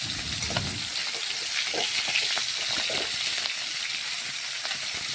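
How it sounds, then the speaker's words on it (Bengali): Prawns sizzling steadily in hot oil in a pan, with a brief burst of louder crackle as the pieces are turned over, then a continuous close, even frying hiss. "দুপাশেই মাছের সমানভাবে লাল লাল করে ভেজে নেব"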